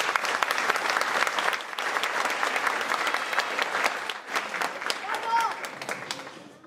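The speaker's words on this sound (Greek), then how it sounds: "Ένα χειροκρότημα." Audience applause at an album presentation, a loud, sustained clapping from a room full of people that thins out toward the end, with a voice and whistle-like tone briefly heard.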